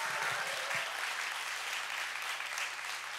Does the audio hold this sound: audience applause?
yes